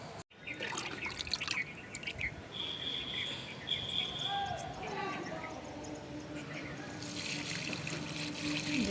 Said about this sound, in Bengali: জলটা ভরে নিই।